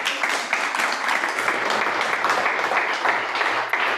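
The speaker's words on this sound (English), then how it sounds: "We have another round of applause." Audience applause fills the room after a talk on Massachusetts wild trout fisheries, a dense, steady wash of clapping that holds evenly for several seconds with no voices over it.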